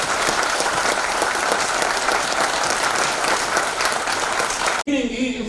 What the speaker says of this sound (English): For all of you, clap.